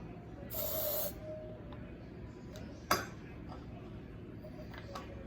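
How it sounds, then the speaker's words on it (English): A short, sharp hiss of hairspray sprayed into a jar near the start, followed by a faint clink of the lid in a quiet room. "spray hairspray in it, and then place the lid back on top."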